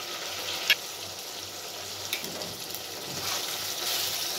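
Chicken with masala powders and spices frying in a pan for biryani, giving a soft, steady sizzle throughout with a few light clinks and stirring sounds.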